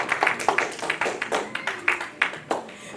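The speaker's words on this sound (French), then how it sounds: "Alors vous pouvez l'applaudir" Audience at a surprise tribute service clapping to welcome a pastor, a moderate patter of handclaps that comes in uneven bursts, with light voices underneath.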